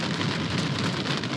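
Heavy rain pounding a camper roof during a hailstorm in the Black Hills, a dense, steady, loud drumming wash with no voices.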